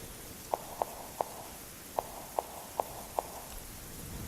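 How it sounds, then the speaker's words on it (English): Heavy footsteps land one by one in the rain, seven distinct thuds in an uneven rhythm over a soft, constant patter of rainfall. "With heavy footsteps, he slowly walked off into the rainy mist"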